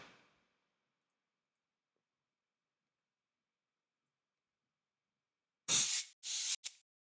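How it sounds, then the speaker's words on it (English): Shaker percussion samples: after a long silence, two short rattling shaker bursts and a brief final flick play close and bright, preceded by a faint trailing shake at the very start. "these are just all shakers"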